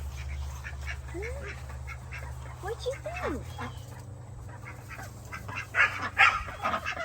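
Ducks quack intermittently on a farm, including a green-billed drake and two females, with short calls scattered through a steady low hum and people talking nearby.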